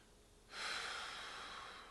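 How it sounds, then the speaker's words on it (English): One slow, deep inhalation through the nose begins after a brief quiet moment and carries on steadily as a soft, airy rush, close to the microphone in a calm indoor setting. "put your hand on your heart, close your eyes, take a deep breath"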